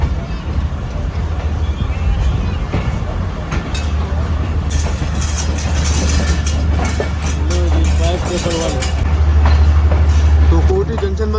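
Bolan Mail passenger train pulling out on the Sehwan to Karachi run, with a steady low rumble of the engine and carriages rolling throughout, a few faint clanks and squeals, and background voices murmuring nearby.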